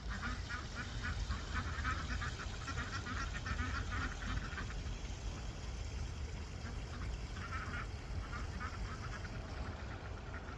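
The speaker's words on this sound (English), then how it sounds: "Ducks, what are you doing down here? You guys just free ranging out here." Free-ranging ducks quacking in short repeated bursts in a farmyard on a fine day, moderately close, over steady outdoor background noise.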